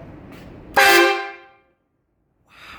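A single loud horn blast, harmonic and blaring, sounds for under a second and trails off, with faint background noise before and after.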